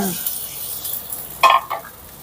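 Snow peas stir-fried briefly in a hot pan with a little oil, a soft steady sizzle with a couple of short scraping stir strokes near the middle, close and moderately loud.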